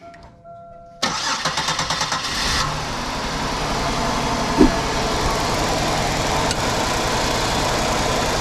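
A 2005 Buick Park Avenue with a random misfire cranks in a short series of rhythmic starter pulses, then catches and settles into a loud, rough, uneven idle, recorded close up.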